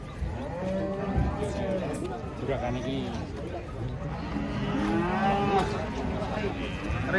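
Cattle low repeatedly, several deep moos rising and falling amid nearby chatter and crowd noise at an outdoor market.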